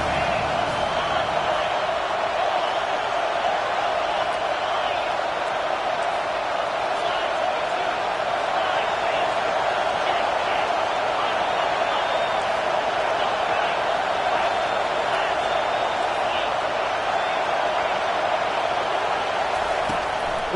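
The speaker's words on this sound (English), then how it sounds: "Decibels rising as the crowd gets behind this defense on third down." Stadium crowd at a TCU football game roaring steadily for the defense on third down, a dense continuous wash of distant cheering that holds loud throughout, with no single voice standing out.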